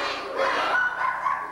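A human voice imitating a big black dog barking, giving a short sustained, woofy vocal bark alone at close range.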